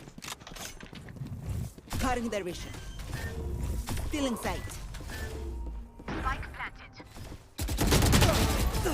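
Video game gunfire comes in loud bursts between stretches of talk, with a heavy sustained volley near the end, while someone speaks Turkish over much of it.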